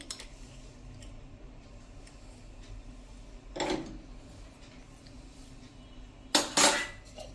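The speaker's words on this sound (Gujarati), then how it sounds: "તો હવે આપણે આ વાટકીને બહાર લઈ લેશું." A hot bowl of smoky red chilli chutney clatters as it is lifted out, with two distinct ceramic knocks and scrapes separated by quiet kitchen background.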